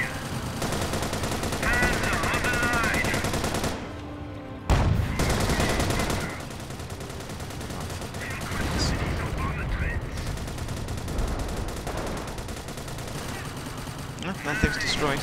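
Machine gun fire rattles in the Company of Heroes World War I mod, played on the German side: dense, loud, continuous bursts of rapid shots with occasional explosions, sustained throughout with brief dips in intensity.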